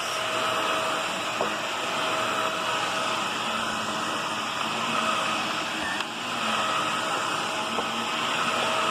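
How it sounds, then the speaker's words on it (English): A lightweight Shark Navigator NV22L upright vacuum cleaner runs steadily nearby with a continuous, even whirring hum and no talking. "What I do like about this vacuum is it's lightweight and it is pretty quiet."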